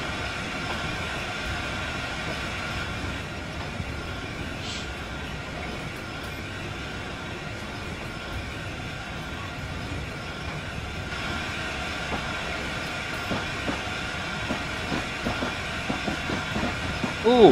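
An LNER A4 Mallard steam locomotive and its train in Train Simulator 2016 on the East Coast Main Line between Newcastle and York give off a steady rolling hum and hiss, with faint rail clicks building toward the end.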